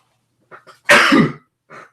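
A single sharp, explosive sneeze bursts out close to the mic, preceded by a couple of short breaths and followed by a brief exhale.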